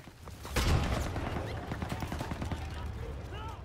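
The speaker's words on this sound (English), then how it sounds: "is there any more MG42 nests around here? Because I could still see gunfire." MG42 machine gun fire in the World War II video game Call of Duty WW2, a loud blast followed by rapid rattling bursts from the trenches that continue under the battle noise.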